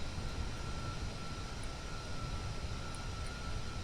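Steady low drone of an aircraft engine at one-eighth throttle in the Kerbal Space Program video game, an even, continuous hum with a faint tone above it and no talking.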